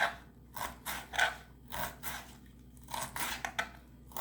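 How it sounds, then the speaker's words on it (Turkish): A knife cuts black mulberry leaves into half-centimetre strips on a board, about seven or eight crisp, evenly spaced chops close by with short pauses, no talking. "Şöyle yarım santim kalınlığında doğruyorum."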